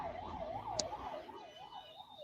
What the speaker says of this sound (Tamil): நிமிஷத்துக்கு ஒரு ஆம்புலன்ஸ் நம்மள கிராஸ் பண்ணி போயிட்டு இருக்கு